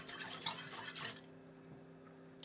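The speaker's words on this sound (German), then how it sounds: "Kurz einen kleinen Schneebesen umgerührt." Small whisk clinking and scraping against a pot while stirring milk and sugar, a quick run of bright metallic rattles for about a second, then the pot falls quiet.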